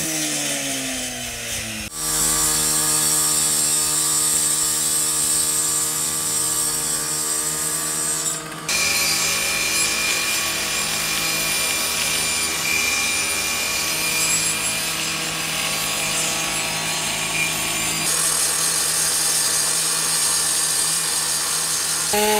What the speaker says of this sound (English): The recruits have had a full day of hands-on dealing with saws